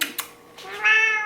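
A pet cat meows once in a drawn-out, rising call near the microphone, preceded by a couple of soft clicks like keyboard taps.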